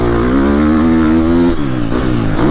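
A new Triumph TF250-X dirt bike roars close by on a watered dirt track, its engine buzzing loud and steady before dropping pitch briefly and revving back up.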